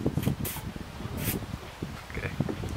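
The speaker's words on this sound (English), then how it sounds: "Same thing, spray it down." A few short hissing bursts of liquid being sprayed onto a vintage crosscut hand saw during restoration, spaced apart over a faint background with light handling noise.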